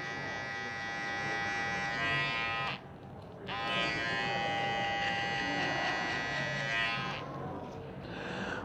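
Electric hair clippers buzzing steadily while cutting a fade haircut in a barbershop, the motor's tone running continuously apart from a brief pause midway, close and moderately loud.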